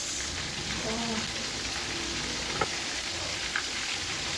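Onions and liver-gizzard steak sizzle evenly in a pan, with soft scraping from stirring and a couple of sharp clicks from a utensil.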